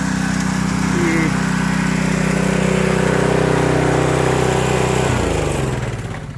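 A gas pressure washer engine runs loud and steady during house washing, a continuous droning hum that shifts pitch near the end as the engine winds down, with a voice speaking over it.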